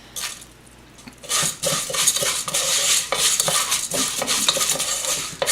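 Dry vermicelli pasta browning in a pan, stirred with a utensil that scrapes and clinks against the metal over a light sizzle, starting quiet and turning busy and close after about a second.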